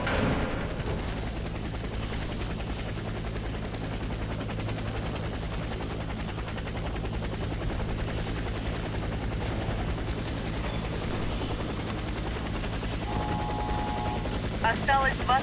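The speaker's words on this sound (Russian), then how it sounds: "Вертолет уже в пути." A helicopter drones steadily throughout a Warface co-op mission, a constant thudding rotor roar mixed with game background noise and a few faint beeps near the end.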